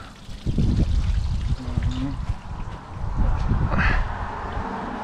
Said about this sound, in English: it's a peaceful little area to just sit and listen to the water dribble